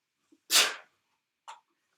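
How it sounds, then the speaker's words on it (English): A person sneezes once, a sharp, loud burst after a faint intake of breath, followed by a smaller second sneeze or sniff a moment later, with quiet around them during a board game of Feast for Odin. "oh, I'm going to sneeze."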